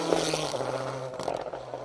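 A Proton Satria Evo rally car sweeps past on a closed asphalt stage at the Argyll Rally, its engine a fairly faint, brief rasping note that shifts pitch as it goes by.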